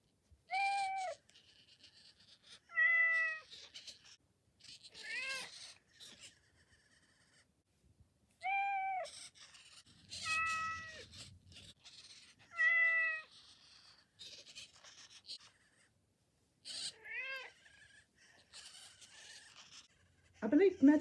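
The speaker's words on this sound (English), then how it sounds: "here are the sounds that Metacat makes" Elephant Robotics Metacat robotic pet cat meowing: about eight separate meows, each short and tonal with a rising and falling pitch, spaced a second or two apart, with near silence between them and no talk.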